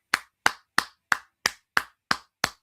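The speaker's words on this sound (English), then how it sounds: "And I applaud you guys." Eight crisp hand claps in a slow, even rhythm, close and isolated with silence between each.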